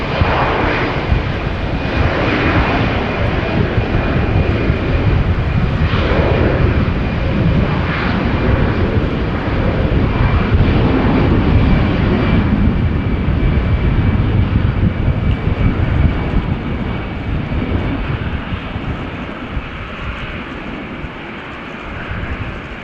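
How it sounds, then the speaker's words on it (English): A KM Malta Airbus A320 jet at Schiphol Airport, bound for Milan after a quick turnaround, roars loudly with a dense, steady engine rumble that holds for over twenty seconds before easing slightly at the end. "It's an A320 doing a turn and burn."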